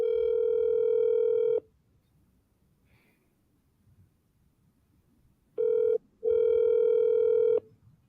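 Two long steady telephone ringback tones with a gap of near silence between them, loud and clear while an outgoing call to a person waits to be answered.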